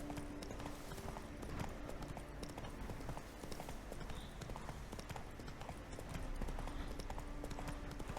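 Roach the horse galloping in The Witcher 3, a fast, steady clip-clop of hoofbeats running throughout at low volume over game ambience.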